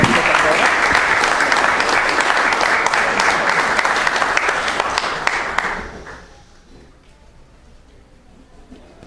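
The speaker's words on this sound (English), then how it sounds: "let's give him one big round of applause" Applause from the audience at a city council meeting: steady, full clapping from many people in the room for about six seconds before it tapers off to quiet room noise.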